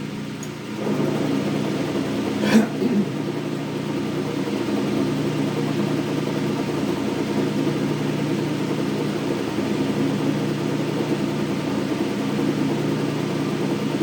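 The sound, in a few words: Hendey lathe running at 29 RPM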